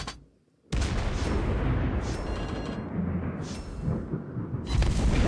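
Heavy naval gunfire and explosions in World of Warships Blitz, a Des Moines or Salem cruiser battle: a loud sustained rumbling barrage after a brief quiet start, with sharp booming surges throughout.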